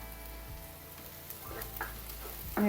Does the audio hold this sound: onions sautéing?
yes